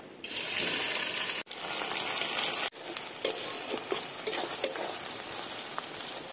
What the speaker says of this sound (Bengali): বিরিয়ানির জন্য পেঁয়াজগুলো ভেজে বেরেস্তা বানিয়ে নেব।